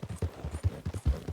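A horse's hooves clip-clop in a quick, steady rhythm while it is being ridden, the hits close and clear with no talk over them.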